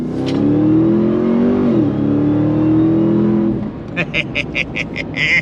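A Ram TRX pickup truck's engine revs up loudly while driving, a sustained rising drone that drops off before rapid clicking and chirpy tones take over near the end.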